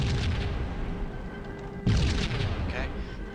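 A propane tank blows up in the Max Payne video game, a single loud boom bursting out partway through amid ongoing game noise and talk, its rumble trailing off over the following moments.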